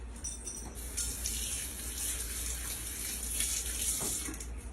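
A scoop is rinsed under a running kitchen tap, a steady close rush of water splashing into the sink for several seconds with faint clinks of the scoop under the stream.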